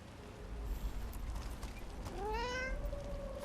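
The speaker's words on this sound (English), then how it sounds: "Do cats follow you, Nev?" A cat meows in the video game Dragon Age: The Veilguard: one drawn-out, rising then falling meow arriving midway through, over a low steady ambient bed of game background sound.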